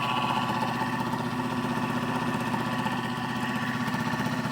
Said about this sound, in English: I'm going to run the motor coils with this Hall effect